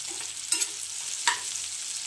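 Sesame oil sizzles steadily in a pan with a soft constant hiss while garlic chutney for masala dosa sautés, broken by a couple of brief clinks of stirring. No one speaks.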